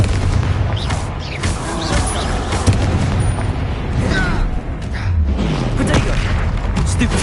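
Repeated spell explosions from Confringo casts in the video game Hogwarts Legacy, booming bursts mixed into a dense, continuous battle din of other spell effects.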